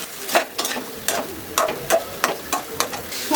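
Boiled chickpeas and potatoes fry in oil, sizzling steadily beneath a string of sharp, regular stirring scrapes and knocks from a spatula in the pan.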